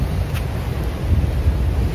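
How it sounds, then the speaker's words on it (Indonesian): Wind buffets the microphone on a beach under a coconut palm, with waves and surf washing in as a constant loud roar, no voices. "ini lagi di pantai saya"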